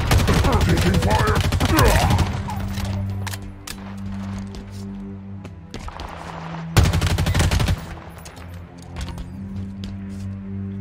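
Gunfire fills a Halo Infinite campaign fight, dense rapid bursts over a low humming backdrop, then sporadic shots and another loud volley, with no talk.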